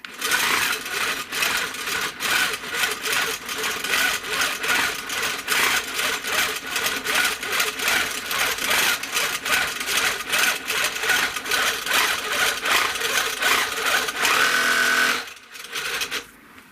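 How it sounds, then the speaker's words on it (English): A sewing machine runs steadily for free-motion stitching of straight-ish lines along a quilt border, a fast continuous rhythmic needle rattle close up and loud, stopping abruptly near the end. "I'm going to stitch a series of straight-ish lines, free motion."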